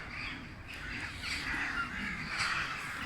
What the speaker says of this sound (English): you can hear the crows gathering above us in the trees